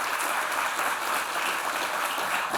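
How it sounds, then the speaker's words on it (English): An audience at a conference opening session applauds steadily, a broad, even wash of many hands clapping at moderate volume throughout. "you're all clapping for him"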